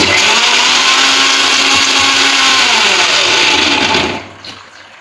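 Mixer grinder blending lemon and gooseberry pieces with a little water, a loud, steady motor roar held for about four seconds before cutting off and winding down into quiet.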